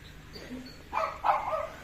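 Two short bursts of small-dog yapping, a quick yelp and then another, heard at moderate distance over faint outdoor background noise in Kherson.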